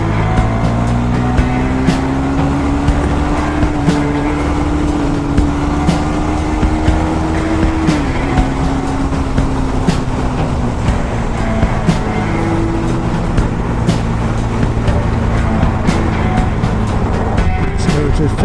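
A KTM 390 Super Duke motorcycle accelerates in fourth gear from about 40 mph, its engine note climbing steadily and close, with a brief shift in pitch midway, under constant wind rush and occasional speech.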